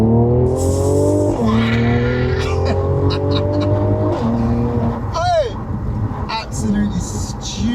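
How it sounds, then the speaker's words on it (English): An all-wheel-drive Mercedes C43 with traction control off accelerates at full power on a London street, the engine note climbing loudly and dropping twice at gear changes, with a brief squeal and a voice toward the end. "So let's turn traction off because we are traction off. Traction off TV. Let's give it full power."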